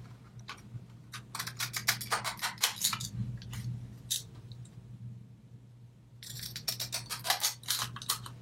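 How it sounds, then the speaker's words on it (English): Pinking scissors snipping out shapes from material, with close, crisp repeated cuts in quick rhythmic runs, a pause in the middle, then another fast series of snips. "it's going to have like a little jagged edges around it with my pinking scissors"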